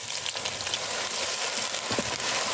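Onions frying lightly in a pan give a soft, continuous sizzle, with faint stirring taps.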